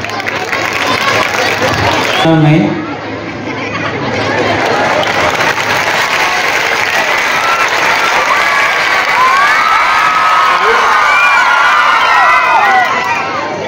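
A school annual gathering audience gives loud, sustained applause and cheering, with a dense crowd roar and scattered shouts running steadily throughout.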